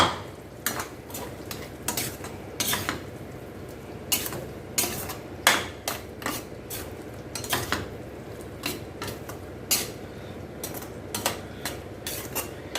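Fried paneer stirred into a masala with peas in a pan, the spoon clinking and scraping against the metal in frequent, irregular strokes over a low simmering background.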